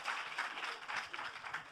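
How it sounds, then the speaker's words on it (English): An audience at the Grammy Museum gives a brief burst of applause, a steady patter of many hands at moderate level with no voices over it. "give him another round of applause for doing that so quickly"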